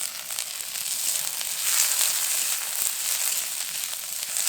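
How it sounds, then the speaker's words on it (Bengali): Soaked peas and chopped onions fry in a pan for a Bengali chop recipe, a steady bright sizzle with light scraping as they are stirred, continuous and fairly close. "এই সময় মটরগুলোকে একটু বেশিক্ষণ সময় ধরে নেড়ে চেড়ে নেব।"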